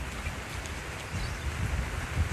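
Steady rain falls outdoors in Texas after a summer drought, a soft continuous hiss with low rumbling gusts and no voices.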